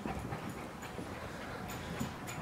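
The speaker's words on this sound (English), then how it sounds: "Oh, it's a scary guard dog." A dog whimpers and yips softly during a game of hide and seek, with small panting whines and a few short high cries at close range.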